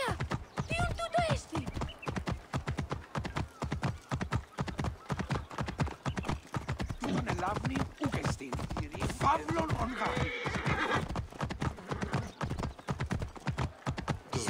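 Continuous rapid clip-clop of horse hooves in the Ancient Egypt setting of Assassin's Creed Origins, a steady galloping rhythm throughout with a brief whinny near the start and speech mixed in.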